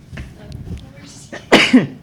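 A sudden sharp sneeze bursts out near the end, following a stretch of quiet murmuring voices.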